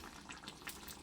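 Pork humba sauce bubbling in a pot, a soft, steady simmer with small irregular pops and gurgles, faint and close.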